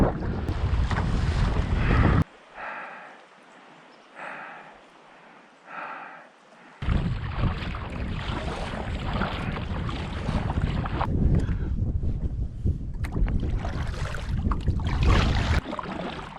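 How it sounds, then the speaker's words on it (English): A small boat paddled into the wind on open water, with heavy wind buffeting and water noise in loud bursts, broken by a quieter stretch of faint sloshing before the gusts return. "Paddling along"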